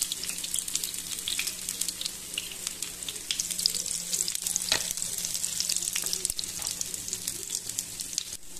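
Mutton pieces stirred in hot oil in a pan give a continuous close sizzle and crackle, with occasional scraping strokes of the spoon throughout, no voices.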